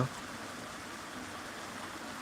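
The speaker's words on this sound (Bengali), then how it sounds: "বৃষ্টির শব্দ তোমরা শুনতে পাচ্ছ" Rain falls under an overcast sky, a steady, soft, even hiss with no breaks, fairly faint and without any voices.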